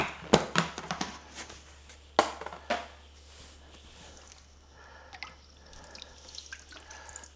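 Brine dripping off a pulled turkey into a plastic brine bucket before smoking, a few sharp splashes and drips early on, then softer trickles and small wet sounds close by.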